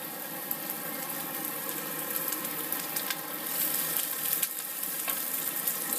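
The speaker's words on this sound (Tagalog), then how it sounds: "Gigisa ko muna yan para magkaroon ng lasa." Vegetables sautéing in a hot pan, a steady dense sizzle and crackle with occasional stirring scrapes, close and continuous over a faint exhaust-fan drone, with no talking.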